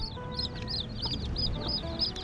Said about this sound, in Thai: มีเป็ดอยู่น้ำเนาะ